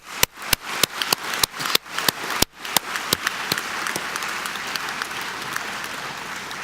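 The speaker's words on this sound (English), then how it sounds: "Please join me in giving them a round of applause" Audience applause at a 2019 graduation commencement in UCC Hall, starting as a few evenly spaced sharp claps and quickly swelling into a sustained wash of clapping from a large crowd.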